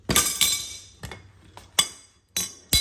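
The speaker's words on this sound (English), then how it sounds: "I'm just going to give this one a hard hit, and it'll break right loose." A wrench is struck hard against a motorcycle jam nut to break it loose, ringing out as a series of sharp metallic clanks, about six separate hits in close succession.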